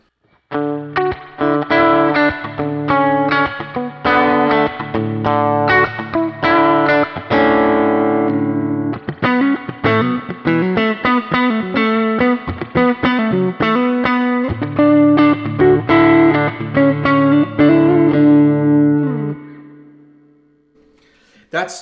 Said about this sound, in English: That's a pretty typical like spring sound for a Fender style thing.